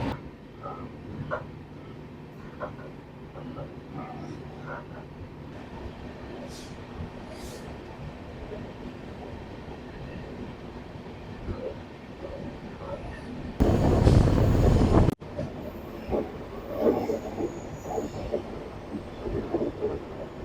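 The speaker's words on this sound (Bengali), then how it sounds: "ট্রেন কিন্তু জঙ্গলের মধ্যে এরকম হেলে ধুলেই একদম নর্মাল স্পিডেই কিন্তু এগোবে" A Vistadome train running through the forests of the Dooars, heard as a steady low rumble and rattle of the rolling carriage with soft clatter, a louder burst of rushing noise partway through, and faint voices in the background.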